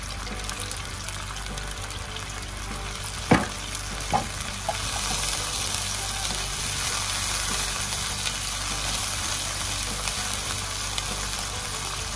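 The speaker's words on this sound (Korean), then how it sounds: "이제 모든 재료들이 골고루 잘 섞이도록 우르르 끓여주세요" Scallop basil pesto pasta sauce bubbling and sizzling in a pan, a steady close frying hiss with a couple of sharp utensil knocks early on, no voices.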